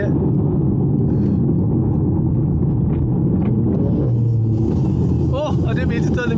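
An Audi TT Quattro engine drops a gear and pulls, a loud steady in-cabin rumble with rising engine tones near the end, heard from inside the car with speech over it.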